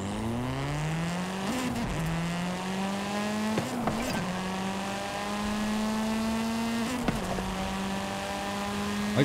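A fast race-style truck engine in American Truck Simulator revs and holds a steady drone, climbing in pitch with brief gear-shift dips at a few points, heard clearly with no talk.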